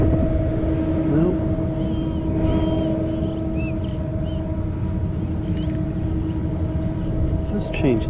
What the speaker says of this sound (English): I can't hear it because there's exhaust fans on top of that building